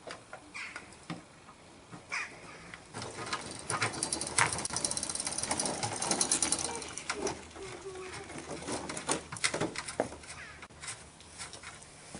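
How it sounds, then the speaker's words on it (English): A ratchet clicks in repeated bursts, tightening the tow bar bolts on a Land Rover Freelander 2, with pigeons cooing in the background and a voice speaking now and then. "we just need to tighten up all these bolts"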